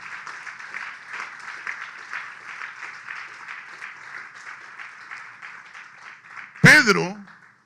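A church congregation claps in a quick, fairly even rhythm during a Spanish-language service, moderately loud and sustained, ending with a sudden loud burst and a voice at the close.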